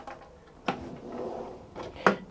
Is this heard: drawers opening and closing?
yes